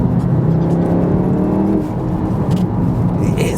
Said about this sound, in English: I just want to hear that exhaust.